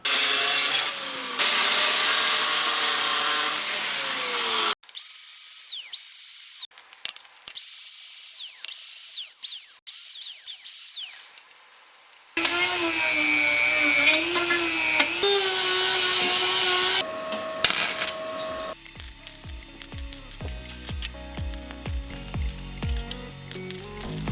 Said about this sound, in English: I'm just going to trim the pipe right here, right there, and right there.